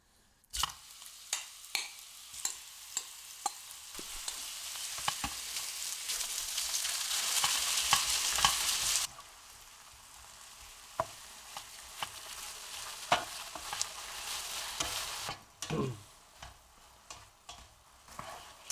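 Chicken fillet frying in hot oil in a pan over a half-strength gas flame gives a steady, close sizzle with crackling pops and occasional stirring scrapes and ticks, louder in the first half, then settling to a softer sizzle.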